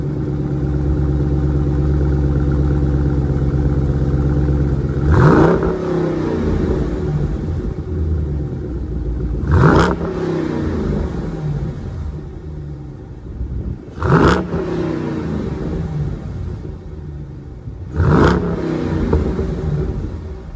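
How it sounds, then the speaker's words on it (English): A 2021 Dodge Durango with an aftermarket intake idles loudly with a steady low rumble, then revs four times at roughly even intervals, each rev rising sharply and falling back to idle. "So we're gonna start it up, see what this bad boy sounds like."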